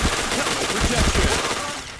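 Rapid automatic gunfire in a shooter video game rattles in dense, loud bursts over a busy mix of game effects, continuous for the whole moment.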